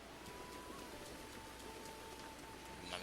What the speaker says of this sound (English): I guess it's why it's raining all the time. We're in the wetlands.